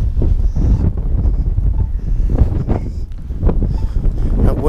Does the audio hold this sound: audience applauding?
no